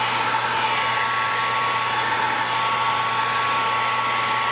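Heat gun blowing steadily on car wrap film, a continuous close airy whir with a faint tonal hum, no talking.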